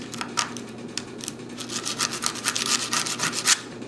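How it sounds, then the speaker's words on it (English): Fingerboard trucks being sanded to remove their paint, with quick repeated scratchy strokes in an uneven rhythm, close and fairly loud, and no voices. "So I'm just going to keep sanding this until I get all the paint off."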